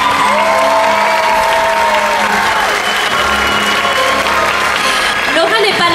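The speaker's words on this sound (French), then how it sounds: "j'aimerais applaudir grandement Laura et Louise qui ont donné leur démission à la fin de l'année." Audience at an annual club evening applauds warmly for departing coaches, a dense, loud wall of clapping with some crowd noise and voices mixed in throughout.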